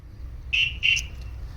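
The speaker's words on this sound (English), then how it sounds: "we'll get two bleeps, two flashes" Two short, high electronic chirps in quick succession from a Starline S9v2 car alarm on a Ford Escort Cosworth, fairly close, against a quiet background hum.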